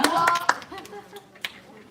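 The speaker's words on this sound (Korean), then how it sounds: "우리 은찬이가 엄청 큰 목소리로 여기 달란트 박수" A short burst of children's clapping rings out in a church service for young kids, followed by a few scattered claps as an adult voice speaks.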